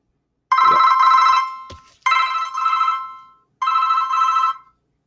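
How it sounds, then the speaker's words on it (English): A telephone rings in three bursts of trilling bell tones separated by brief pauses, close and loud against otherwise silent surroundings. "silence that phone"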